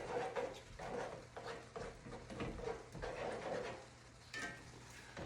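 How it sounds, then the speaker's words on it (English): Eggs sizzling steadily in a pan as the broken yolks are stirred and mixed in, with a continuous close frying hiss and soft scraping strokes throughout. "Break up the yolks, mix it in."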